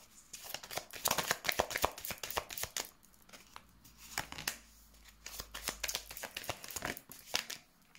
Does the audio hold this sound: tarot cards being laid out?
yes